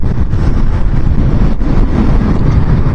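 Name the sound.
wind during a motorcycle ride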